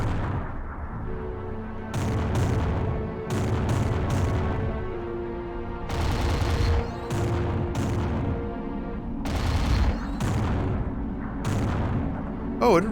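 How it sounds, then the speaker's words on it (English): A submarine gun in Aquanox fires all three barrels at once in its alt-fire mode. Repeated heavy broadband bursts come about every second or two, each a sharp crack with a rumbling tail, over a low ambient drone. "Oh, I didn't realize these guns had an alt fire mode. Fires like all 3 barrels at once."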